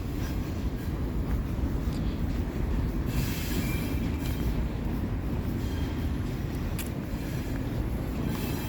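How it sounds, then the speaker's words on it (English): A train rolls past near the Southend rail and container yards in Halifax, a steady loud rumble of railcars with wheels squealing against the rails throughout. "I hear a train that is probably either coming or going to the container yards."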